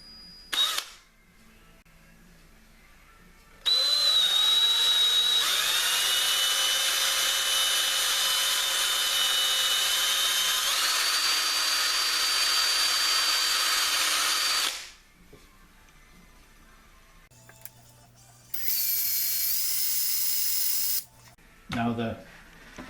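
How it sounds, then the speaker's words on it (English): A small power drill with a tiny bit wrapped in paper whines steadily as it bores a hole, starting and stopping in loud close bursts, with brief talk around it. "The drill bit I'm using is so small that I had to wrap it with paper"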